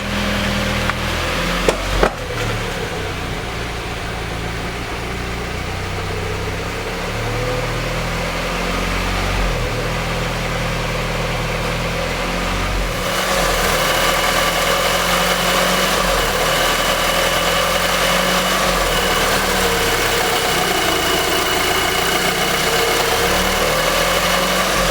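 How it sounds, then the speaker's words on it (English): A Volkswagen MKV GTI engine with an idle problem runs steadily at idle in a garage, then climbs into a sustained, louder revving throttle from about midway on, with a couple of brief clicks near the start. "So there's the revving throttle"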